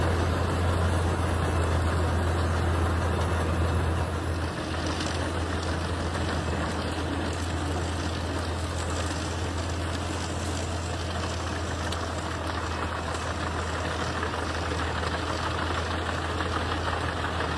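A self-propelled wood chipper's engine runs steadily and loudly with a continuous low drone and a dense mechanical rattle, and no voices.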